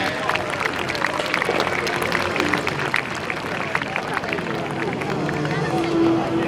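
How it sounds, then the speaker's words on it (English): Outdoor crowd at a horseboarding race meeting in hot September sun at Sandringham, with dense, steady applause and cheering mixed with crowd babble, sustained at an even loudness throughout. "a big round of applause for all the teams of"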